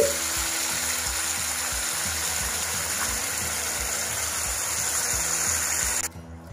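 Tamarind juice hits a hot tempering for Telugu-style kanda bachali curry, setting off a loud, continuous sizzle with a watery, rushing texture that cuts off abruptly near the end.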